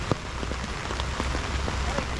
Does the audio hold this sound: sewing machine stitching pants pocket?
no